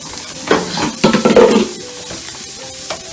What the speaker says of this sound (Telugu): ఇక్కడ ఆనియన్ వాడుతున్నాయి, ఈ పక్క మనకి జీడిపప్పు ఇవన్నీ కూడా వేగుతున్నాయి.